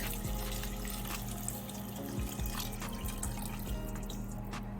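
Coconut water pours into a cooking pot for curry breadfruit and saltfish rundung, a steady close splashing trickle with scattered drips running throughout, no voices.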